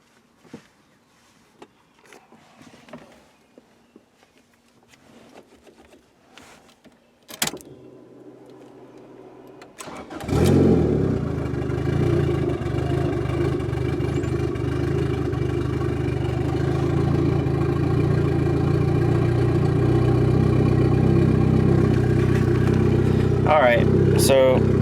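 A turbocharged Acura Integra car, bought on eBay, starts after some quiet clicks and handling noises, then settles into a loud, steady engine idle that continues close by and keeps rising slightly.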